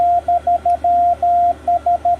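Morse code practice sidetone from a Xiegu G90 ham radio keyed without transmitting: a steady pure tone breaking into short dits and longer dahs in an irregular keyed rhythm, clear and close with no voices.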